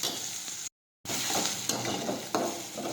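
Urad dal sizzling in a pan while being stirred, a steady frying hiss with scraping strokes of the spoon, close and fairly quiet, with a brief silent gap.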